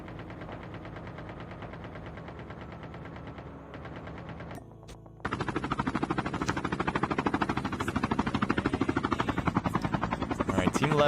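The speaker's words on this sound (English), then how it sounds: "Helicopters, again, a great way to get from one place to another." Helicopter flying in the mobile shooter game Call of Duty: Mobile, a rapid rhythmic rotor chop that stays steady, briefly drops out, then returns louder and closer, with a commentator talking over it.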